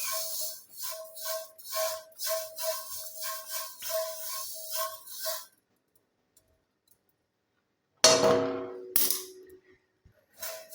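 Black cumin seeds roast on low heat in a hot iron kadai, giving a steady run of sharp crackling pops. After a few seconds of quiet, a louder, denser burst of sizzling crackle follows, close up, with no talk.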